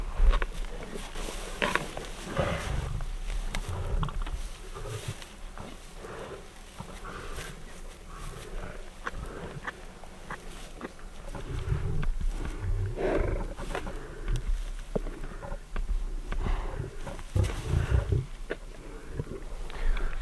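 Lions feeding on a buffalo carcass up close: low growls, snarls and wet crunching and tearing, continuous and rough, with occasional louder grunting bursts.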